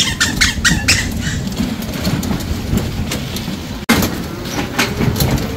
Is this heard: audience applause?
no